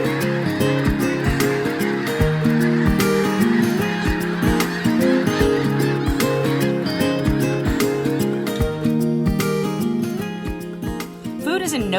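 Geese honking over rice farmland in Arkansas, mixed with other waterfowl calls: a dense, continuous chorus of overlapping honks under music and a narrating voice, fairly loud and steady.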